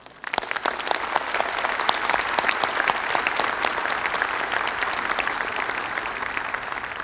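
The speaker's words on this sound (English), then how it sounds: "Let's give them another big round of applause." A large university commencement audience claps steadily and enthusiastically, a dense, sustained round of applause with no voices standing out.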